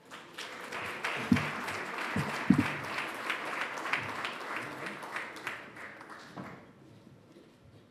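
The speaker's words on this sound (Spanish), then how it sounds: "Un aplauso para los tres." Audience applause at a Spanish awards ceremony honoring three journalists swells into a dense clapping wash with a few louder claps, then tapers off and fades near the end.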